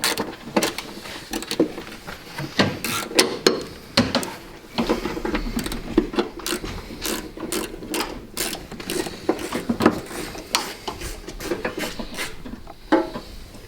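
A 10 mm socket on a ratchet works loose a side trim bolt on a Range Rover, giving rapid uneven clicking and ratcheting bursts with metallic handling noises, close up and with no talk.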